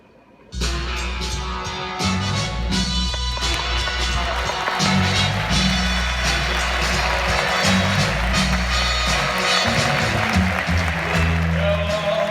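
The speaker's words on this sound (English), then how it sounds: "No, don't let the applause die down. Keep clapping so I can walk away." Loud, sustained audience applause at a live comedy show, starting abruptly and holding steady as a dense wall of clapping with cheering, a low musical bed underneath.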